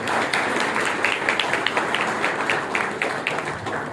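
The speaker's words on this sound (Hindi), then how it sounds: "तो हम तो कहेंगे कि इन सब के लिए जोरदार ताली बजाओ।" Applause from a crowd at a birthday celebration, many people clapping together in a brisk, even patter that stays fairly steady for a few seconds, moderately loud with no voices over it.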